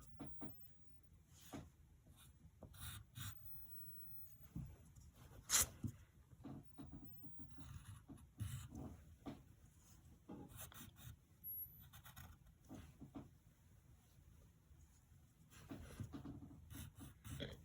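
A pencil drawing on paper close up, quiet scratchy strokes in short uneven bursts with faint taps and pauses between them.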